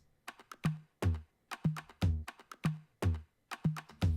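Afro house toms and kick drum play a steady repeating pattern without the extra tom, punchy pitched hits in a rolling groove, crisp and dry with no other sound.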